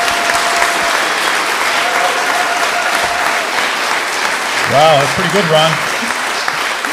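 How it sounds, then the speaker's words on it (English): Audience applause for Ron fills a closing awards gala for the Salt Spring National Art Prize, steady clapping throughout with a voice speaking briefly near the end. "let's give a round of applause for Ron as well"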